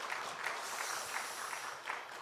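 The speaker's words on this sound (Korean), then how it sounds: "하나님께 영광의 박수 올려드리겠습니다" A church congregation applauds during a Sunday worship service, a steady wash of many hands clapping at moderate distance that holds evenly throughout.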